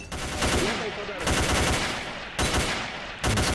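Bursts of automatic gunfire in the S.T.A.L.K.E.R. shooter, with several rapid, loud volleys separated by short pauses and sounding close by.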